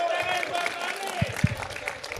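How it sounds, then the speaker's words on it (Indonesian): An audience at a debate event in Gorontalo applauds, a continuous patter of clapping with a few sharp near claps, under loud amplified talk and crowd noise. "Tepuk tangan dulu."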